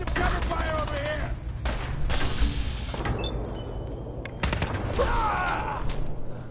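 Gunfire in the video game Fallout 4: bursts of rapid shots and clattering bangs in a dense battle mix, continuing throughout with brief lulls, loud and close under shouting voices.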